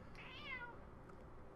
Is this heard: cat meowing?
yes